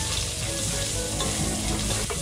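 Garlic and onion fry in hot cooking oil, a dense, steady sizzle with crackling close by, alone and unbroken.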